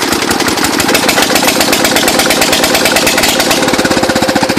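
Kohler engine on a John Deere 210 lawn tractor running with no muffler: a loud, raw, rapid popping roar close up that holds steady throughout, with the firing pulses growing more distinct toward the end.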